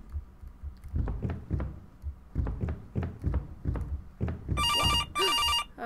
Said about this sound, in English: Oh god, the phone's ringing.